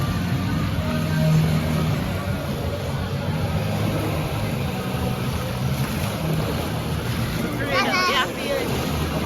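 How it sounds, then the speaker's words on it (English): Artificial waves in an indoor water park wave pool churn and wash steadily, a constant loud rushing of water with a brief burst of distant voices near the end. "The waves ain't no joke out here, man."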